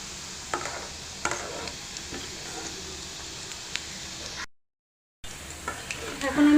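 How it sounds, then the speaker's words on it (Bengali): Chicken kofta sizzles steadily in a pan over medium heat, a soft, continuous frying crackle with occasional faint clinks of stirring and a short gap of silence partway through. "আমি কিন্তু মিডিয়াম হিটে এটা আস্তে আস্তে করে রান্না করে নিচ্ছি, একটু লাল বর্ণের করব।"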